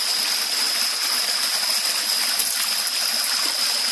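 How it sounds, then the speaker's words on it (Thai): A clear forest stream flowing, a steady hiss of running water close by and unchanging throughout, with a thin constant high tone over it and no voices. "ล้างหน้าล้างตาตรงลำธารตรงนี้ก่อนนะครับ ลำธารก็ ใสสะอาดนะครับ"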